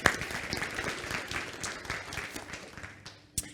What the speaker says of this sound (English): let's just have like a round of applause for all the organizers